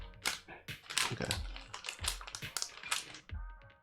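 A Logitech K780 multi-device keyboard is typed on at close range, with irregular bursts of crisp key clicks and taps, loud and alone.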